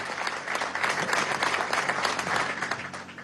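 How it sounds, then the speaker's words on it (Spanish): Crowd applause at a public event at a baseball stadium in La Guaira, Venezuela, a dense burst of clapping that swells and then fades within a few seconds. "vamos a darle un aplauso a Víctor, este joven líder revolucionario"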